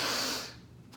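A voice imitates a nose being blown: one loud breathy blast that fades within about half a second, heard alone with nothing else behind it.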